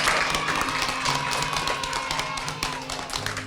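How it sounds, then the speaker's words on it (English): Applause from an audience at the Queensland Children's Hospital School after a children's reading, a dense patter of many hands clapping close and steady, fading slightly toward the end. "So I think we all deserve a big round of applause for that one"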